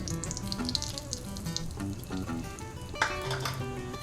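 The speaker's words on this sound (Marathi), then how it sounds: "आपल्याला ती खरपूस ब्राऊन कलरवर भाजून घ्यायची आहे" Wheat flour roasts in hot ghee with a soft, steady sizzle and light stirring scrapes. Other faint kitchen sounds sit in the background, and no one speaks.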